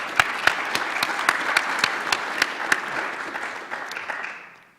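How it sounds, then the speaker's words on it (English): A round of applause for support staff at an expo's morning session in a hall, a crowd clapping steadily with sharp individual claps standing out, then fading away toward the end. "So round of applause for those folks as well."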